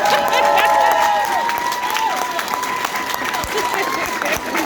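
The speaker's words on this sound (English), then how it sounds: "Applause." Comedy club audience breaks into applause and cheering, a dense, loud wash of clapping with whoops that stays steady throughout and fades only slightly toward the end.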